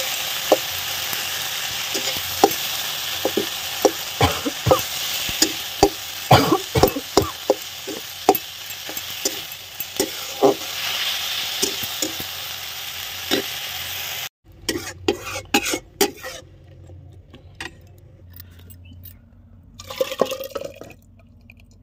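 Dal frying in hot oil with panch phoron, onion and chili, a continuous close sizzle broken by repeated scraping and clinking of a stirring spoon, then a quieter stretch with intermittent stirring taps.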